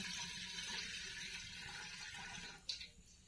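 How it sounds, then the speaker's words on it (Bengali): Water poured into a pot on a lit stove to heat while making pitha: a faint, steady rushing pour with a brief splash near the end, no talking. "এতে আমরা একটু জল দিয়ে নিচ্ছি গরমের জন্য"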